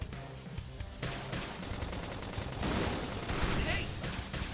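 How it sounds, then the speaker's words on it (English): Rapid gunfire from the video game Xenoblade Chronicles X rattles in dense bursts over game music and effects, loud and continuous through the clip. "We can just topple them with gunfire."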